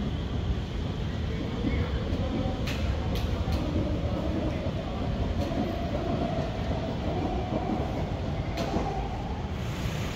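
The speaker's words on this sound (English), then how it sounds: "that train that just left, right, has gone to Pasir Ris" An R151 metro train pulls away from a station platform, a steady broadband rumble of wheels and motors with faint clicks and squeals, close and continuous throughout.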